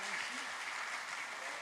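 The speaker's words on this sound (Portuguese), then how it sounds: "Aplaudimos ao Senhor." Church congregation applauding during a Sunday service, a steady wash of clapping from many hands filling the room at moderate level, with a voice briefly audible over it at the start.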